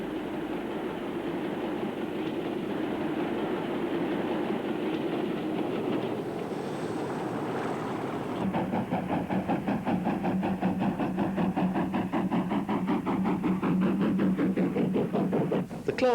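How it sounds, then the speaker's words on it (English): A Class 47 diesel locomotive climbs the steep Lickey Incline with a Class 37 banking at the rear, heavy engine roar and droning throb building as rhythmic wheel clatter grows louder and nearer. "This Class 47 is on the Lickey Incline, being banked by a Class 37."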